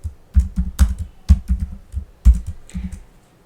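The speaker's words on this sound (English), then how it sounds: "hit enter on the keyboard." Keystrokes on a computer keyboard, a string of distinct close taps in irregular bursts with short pauses, ending with a final press, alone with no voices.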